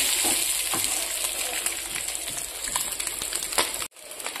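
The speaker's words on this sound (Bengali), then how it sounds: "এদিকে ডিমটা একটু ভেজে নেব।" An egg frying in a pan for a curry, a steady bright sizzle and crackle with scattered pops, close and continuous until an abrupt cut near the end.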